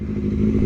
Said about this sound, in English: He's on a motorcycle.